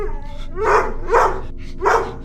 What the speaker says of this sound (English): Can you please shut that dog up?